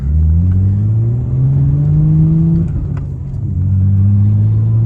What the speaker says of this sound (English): It's really loud too. I think it's a muffler delete and just a downpipe.